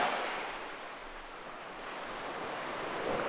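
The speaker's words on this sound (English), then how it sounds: "the ocean looks really calm today" Steady broadband wash of ocean surf along a calm shoreline, with wind noise on the microphone, continuous and moderately loud with no voices.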